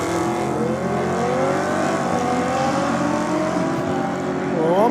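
A Lamborghini and a Ford Falcon XY run side by side down a drag strip, their engines roaring loud and steady across the whole pass with rising and shifting revs.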